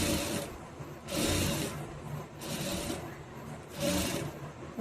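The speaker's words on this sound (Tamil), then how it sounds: "இப்போ கரெக்டாக இதை சுற்றி வந்து ஒரு தையல் போட்டுடலாம்" A sewing machine stitches around the back neck of a blouse trimmed with a saree border, running in four steady whirring bursts with brief pauses between them, close and fairly loud.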